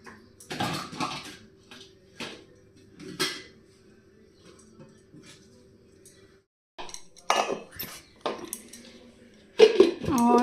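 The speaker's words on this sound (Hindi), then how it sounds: "अभी जो सूखे हुए बर्तन है उनको उठाऊंगी, उन सबको जगह पे लगाऊंगी और बर्तन साफ करूंगी।" Dishes, pots and cutlery being handled and washed in a home kitchen, with clinks and clatters in irregular bursts, some louder near knocks, with quieter gaps between.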